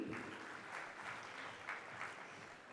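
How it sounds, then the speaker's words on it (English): Faint applause from an audience at a leadership awards ceremony, a soft, even patter of clapping heard from a distance with no voices over it. "Ladies and gentlemen, a huge round of applause for Mr."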